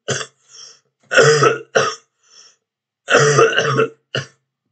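A sick person on antibiotics gives several harsh, close throat clearings and coughs in short bursts with pauses between, loud and dry, with no talking.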